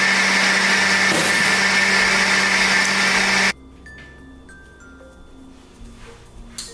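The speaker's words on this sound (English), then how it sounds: "I'm gonna put everything inside of a blender." A kitchen blender whirs loud and steady for about three and a half seconds while blending cottage cheese and strawberries, then cuts off, leaving quiet room sounds and faint clinks.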